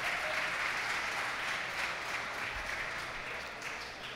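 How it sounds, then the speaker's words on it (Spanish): An audience applauds steadily for a competitor at the weigh-in of a Spanish national spearfishing championship, a dense, even wash of clapping that eases off slightly toward the end. "un aplauso para Ander, por favor"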